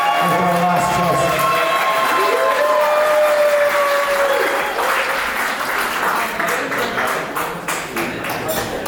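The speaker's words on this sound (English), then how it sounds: "Let's give her a nice round of applause" Wedding guests applaud the matron of honor at a fall wedding reception, loud continuous clapping with some cheering, while a brief tonal whistle-like sound glides through the middle.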